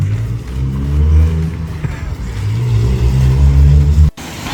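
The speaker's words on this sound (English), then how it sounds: "that's a JAF tow truck" A JAF roadside-assistance tow truck drives past on a wet street in heavy rain, its engine and tyre hiss loud and close for about four seconds before cutting off abruptly.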